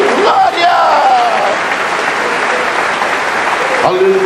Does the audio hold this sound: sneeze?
no